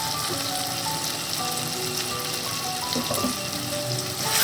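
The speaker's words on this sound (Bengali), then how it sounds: "খুব ভালো করে এটা নেড়ে কষাতে হবে" Spices with salt and turmeric frying in a pan give a continuous soft sizzle with faint clinks and stirring, no voices over it.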